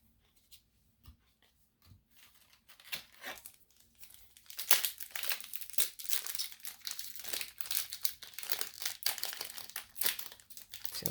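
The plastic wrap seal on a Yu-Gi-Oh! Legendary Duelist: Synchro Storm booster box gets peeled and torn away in dense bursts of crinkling and ripping that start faint and grow louder and busier, close up, with no one speaking.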